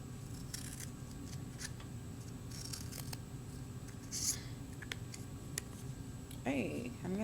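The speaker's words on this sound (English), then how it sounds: "Just keep making relief cuts like that." Scissors make a series of quick relief cuts into paper for a child's mini crown craft, the snips close and soft, spaced irregularly over a low background hum.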